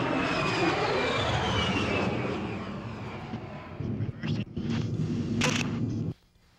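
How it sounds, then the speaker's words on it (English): An A-10 Thunderbolt II jet roars loudly through a low demonstration pass, its engine whine sweeping and fading, with scattered bursts of crowd or wind noise before a sudden cutoff. "The high-speed, low-speed pass, if you want to call it a high-speed pass in an A-10."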